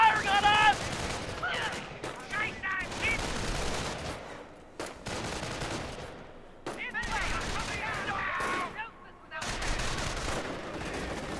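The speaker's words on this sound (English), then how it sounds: "Infantry is firing on us!" Infantry gunfire in the video game Company of Heroes, with bursts of rifle and machine-gun fire and distant explosions crackling steadily, while a voice talks over the battle.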